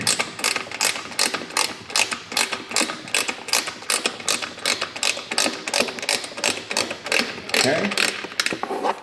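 A ratchet clicks in quick, steady bursts, close and loud, while backing out a stock fastener on a 2015 Suzuki GSX-R600 sportbike during a rear hugger install; someone briefly speaks.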